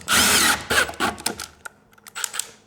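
A power drill driving into wood while building a chicken coop and run, a loud sustained whirring burst followed by several quick trigger pulses that taper off, close to the microphone.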